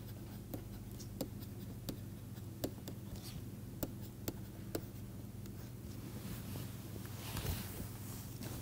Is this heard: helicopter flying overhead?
no